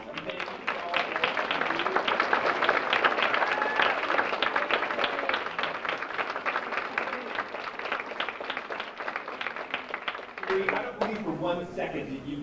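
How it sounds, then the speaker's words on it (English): At a fall speech showcase, the audience gives a long, dense round of applause for the communication course instructors, loud and steady for about ten seconds, then fading into speech. "we'll give you a nice big round of applause"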